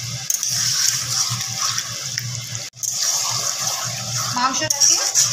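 Hot water poured into a pan of mutton do pyaza, a rushing splashing pour close by, cut off briefly midway then resuming with bubbling and clatter.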